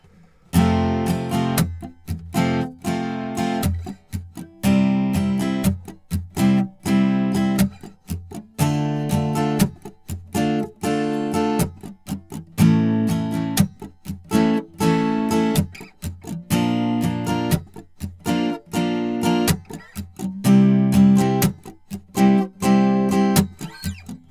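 Steady acoustic guitar strumming of full chords for the chorus of a song in a repeating rhythmic pattern, loud and close, with no voices.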